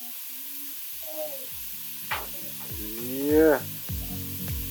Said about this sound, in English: See butter bubble?